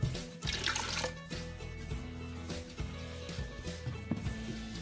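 Water runs and splashes into a pot of blended tomato and onion while Moroccan harira is being cooked, a steady nearby pour with small clattering kitchen sounds.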